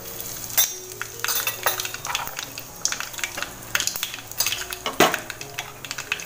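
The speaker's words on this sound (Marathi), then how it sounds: "आता राई जरा तडतडली का त्यात टाकते हिंग" Mustard seeds and asafoetida crackle in hot oil in a kadhai, giving close, irregular popping and sizzling with metal spoon clinks and stirring scrapes against the pan.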